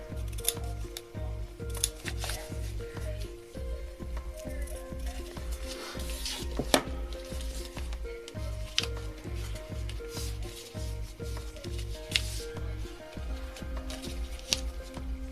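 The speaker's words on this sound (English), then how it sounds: "Just trimming that tiny little extra bit there." Scissors trim a small excess bit of fabric from a doll sock in a steady run of repeated cuts that continues for the whole stretch, close and fairly loud with no talking.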